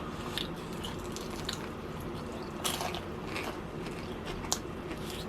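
Crunchy fried chicken skin from a Suwon chicken street shop is bitten and chewed close up, with steady crackly mastication and a few sharper crunches.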